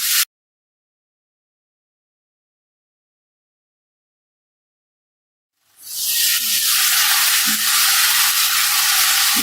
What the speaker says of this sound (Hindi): चिकन को पकाऊंगी मैं कलर चेंज होने तक इसका